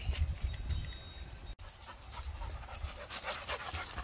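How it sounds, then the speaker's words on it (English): Rapid, breathy dog panting close by, a steady rhythmic huffing that continues throughout with no talking. "And my dog, and one of our dogs, Monty."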